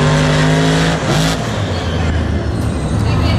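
Monster Jam trucks, including Gunslinger, race in MetLife Stadium with a loud, continuous engine roar that swells and dips as they rev, with faint crowd and voice noise mixed in.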